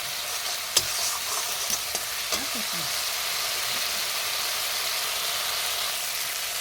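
Spice paste for a tangra fish curry fries in oil, a steady bright sizzle filling the clip with a few sharp stirring clicks near the start.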